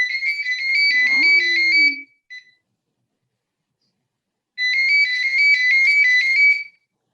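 A phone ringtone plays loud and close in two bursts of a repeating electronic melody, about two seconds each, with a long silent gap between them and a faint low tone under the first burst.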